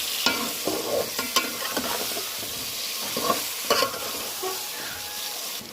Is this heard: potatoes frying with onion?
yes